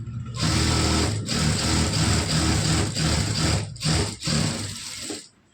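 A sewing machine stitches a 43-inch blouse, a close, steady mechanical whir running in long bursts with brief pauses between, then stopping at the end.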